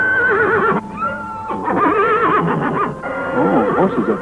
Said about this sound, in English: Oh, horses up ahead, huh?